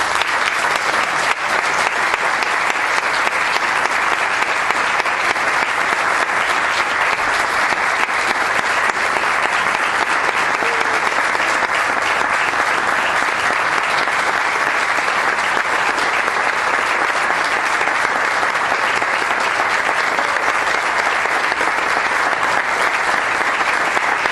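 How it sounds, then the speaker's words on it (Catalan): Strong, sustained applause from a large audience at an awards ceremony in Benissa, dense uniform clapping that stays loud and unbroken for over twenty seconds. "Demano un fort aplaudiment per a Javier Santacreu"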